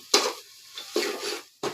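Greens fry and are stirred in a pan, with a few scraping stirring strokes and short sizzling bursts close up, separated by brief quiet gaps.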